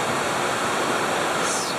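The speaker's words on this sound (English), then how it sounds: "The water flows through here in these giant big pipes, big gray pipes" Water rushing through large gray pipes in an aquarium facility's plumbing, a dense, steady broadband roar heard close up and unbroken throughout.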